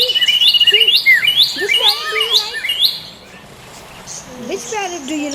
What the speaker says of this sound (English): see the lovebirds